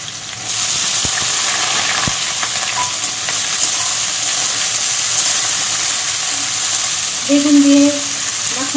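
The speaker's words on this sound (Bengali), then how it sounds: "চলুন তাহলে আমি উচ্ছেটা ভেজে নিই।" Bitter gourd pieces fry in hot oil in a wok over a gas flame, a loud continuous sizzle that holds steady, with a few faint clinks and a brief spatter late on.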